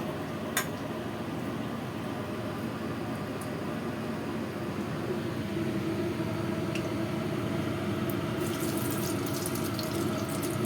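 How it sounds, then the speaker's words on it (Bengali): Tamarind vadas dropped one at a time into hot oil give a steady, continuous frying hiss throughout, fairly close, with no speech. "এবারে দেখো তেলটা গরম হয়ে এসছে, এবারে আমি বড়াগুলোকে তেলের উপরে দিয়ে দেবো একটা একটা করে।"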